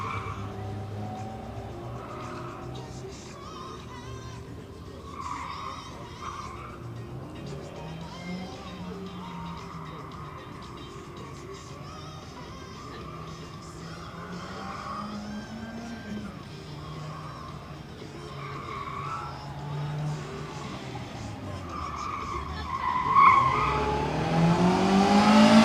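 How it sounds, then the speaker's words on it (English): A Mazda Miata runs an autocross course, its engine rising and falling through the laps with tires squealing and skidding in short bursts, loudest near the end as the car comes close. "Another Miata on course."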